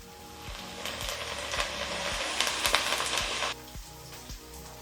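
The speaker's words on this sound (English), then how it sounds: "We are going to cook down this mixture until the onions are nice and translucent and tender" Onions and a seasoning mixture sizzle steadily in a hot pan, a continuous crackling fry with occasional sharper pops and clinks, louder in the middle then settling.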